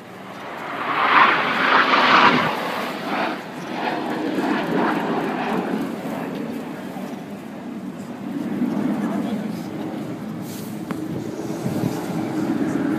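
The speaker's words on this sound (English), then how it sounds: "The jets swing out like a pendulum as they fly the helix." RAF Red Arrows jets flying the helix at Silverstone roar overhead, loudest early then settling into a sustained broad engine rumble, with a voice talking over it.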